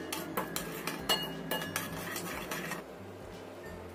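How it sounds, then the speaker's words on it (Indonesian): Crab in oyster sauce seasoning being stirred in a pan, a metal spoon scraping and clinking against the pan in steady repeated strokes, close and clear with no talking. "Kita aduk sampai tercampur rata."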